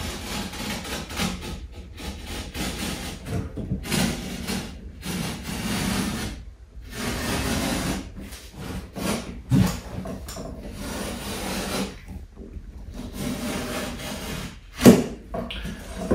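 A utility knife trimming drywall along a T-square on a crooked wall: quiet, uneven scraping and rubbing strokes with brief pauses and a sharp knock near the end, close up, with no talk.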